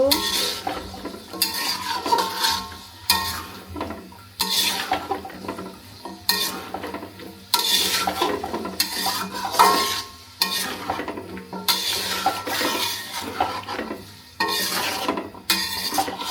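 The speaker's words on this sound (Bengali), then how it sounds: "আলুটা দিয়ে সুন্দর করে কষিয়ে নেব" Potatoes sauté with spices in a pan as a utensil stirs them in repeated scraping strokes over a continuous soft sizzle, close by and without talk.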